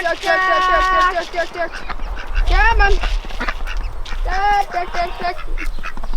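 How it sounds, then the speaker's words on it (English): Ducks quack repeatedly in loud, nasal bursts while being herded in on a New Zealand homestead during a family potato harvest, with a person calling and coaxing them close by over outdoor background noise. "we're going to get these ducks in"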